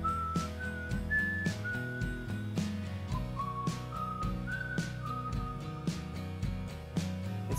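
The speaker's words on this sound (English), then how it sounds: "it's this whistle thing that's just really cool, and it's just it cruises along with these chords" A whistled melody from a song glides over strummed chords and steady drums, the high whistle line clear and prominent throughout the full band mix.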